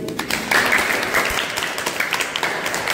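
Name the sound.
classroom applause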